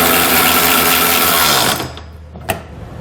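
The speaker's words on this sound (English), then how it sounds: "We can then go back with a 19mm socket and tighten down all of our hardware." A power tool with a 19mm socket tightens trailer hitch bolts on a 2017 Mazda CX-5 in a loud, continuous whir. It stops abruptly, and a single sharp click follows in a quieter background.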